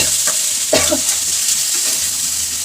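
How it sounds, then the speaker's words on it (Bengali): Potatoes fry in a pan with a constant, close sizzle, broken by a couple of brief stirring clatters, and no voices are heard. "আর এদিকে দেখো সেগুলোর আলুগুলো ভেজে নিচ্ছি"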